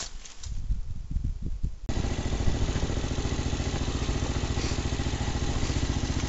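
Elstar Tank 250cc quad engine running steadily around a paddock, a loud continuous rhythmic mechanical drone that kicks in after a quieter, rustling start.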